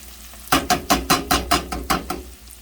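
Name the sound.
tomato paste stirred and frying in pot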